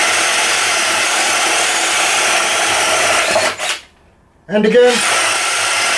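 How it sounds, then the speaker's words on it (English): A Ryobi drill driver bores holes with a spade bit in a continuous whirring grind that cuts out abruptly to near silence, then restarts as a voice speaks briefly over it. "that Ryobi didn't struggle at all with the spade or paddle bits"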